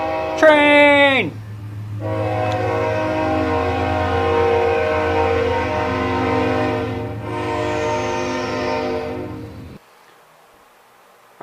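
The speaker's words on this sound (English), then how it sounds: "Train!" A train horn blasts loud and close, followed by a long, sustained rumbling blare as the train passes, then the noise cuts off abruptly.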